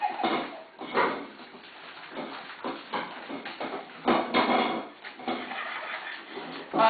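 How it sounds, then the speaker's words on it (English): A dog kicks its empty metal food bowl around the floor, giving repeated irregular clanks and scrapes of moderate loudness, close by and with no talking. "That noise you're hearing would be Lily Pad kicking her bowl around because she's done"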